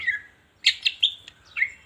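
A green leafbird (cucak ijo) in breeding condition gives a quick series of sharp, high chirps and whistled notes, close and clear, with short pauses between bursts and no voices.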